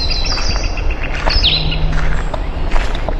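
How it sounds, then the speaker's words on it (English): A northern flicker woodpecker calls in a Maine woodland in late May, a bright high call standing out briefly over a busy chorus of other birds chirping and singing nearby. "Flicker calling now."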